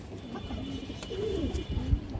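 Pigeons of a high-bloodline breeding stock coo in repeated low, rolling phrases, nearby and fairly loud, several calls overlapping with no talking.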